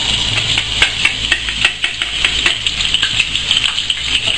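Chopped scallions and shallots tumble into a hot pan and start to fry, a constant sizzle punctuated by a quick run of sharp metallic taps and scrapes from a utensil.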